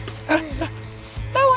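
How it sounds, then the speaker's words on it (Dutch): A small dog yips and barks in short bursts outdoors on a walk in Croatia, several close, high-pitched barks in quick succession, with people talking nearby. "Nou, hondje."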